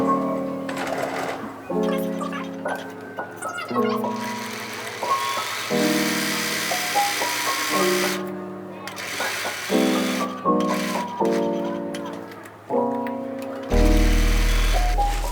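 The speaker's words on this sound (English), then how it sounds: "I'm just going to top stitch around." A sewing machine topstitches around a tropical shirt collar in a series of short, close bursts at shifting speeds, each run starting and stopping in quick succession.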